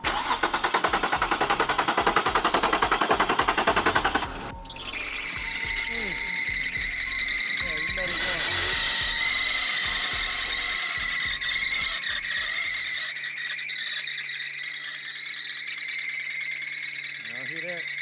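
An Infiniti FX35 cranks with a rapid ratcheting starter churn, then a loud, sustained high-pitched squeal rings over the running engine and slowly fades, close and harsh.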